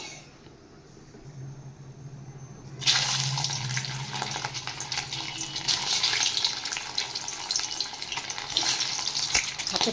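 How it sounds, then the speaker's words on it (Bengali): Eggs dropped one at a time into hot oil in a wok, a quiet low hum first, then a loud, steady crackling sizzle bursting in partway through and continuing to the end with no talk. "এবার আমি ডিমগুলো একটা একটা করে ভেজে নেব।"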